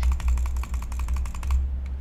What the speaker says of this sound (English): That's butterfly. You're doing double clicks.